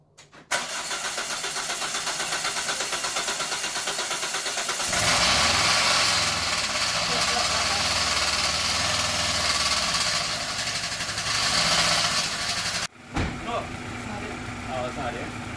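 Toyota MR-S with a freshly installed 2ZZGE engine cranks briefly, fires loudly and settles into a steady, rough idle close by, cutting off near the end; people talk near the car.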